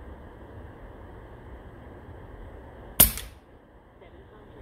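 A single sharp report from an AirForce Talon SS airgun regulated to run off a 4500psi paintball tank, firing once at a target amid a steady background hiss, followed by a short decaying tail and quiet.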